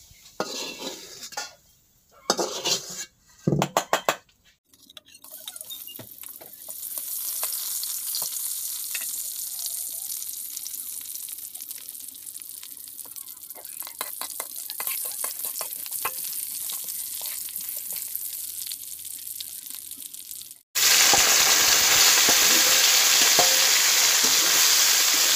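Saag greens fry in oil in a pan with a steady close sizzle and clinks of a utensil against the cookware, starting with a few sharp knocks and ending in a louder burst of frying.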